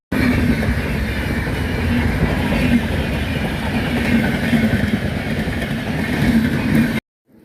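A passing train produces a loud, continuous, close rumble with rhythmic wheel clatter that runs almost the whole time, then stops abruptly near the end.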